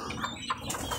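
Pigeons at a village farm kept in dozens of pairs coo softly with a brief flutter of flapping wings, close by, in one short moment.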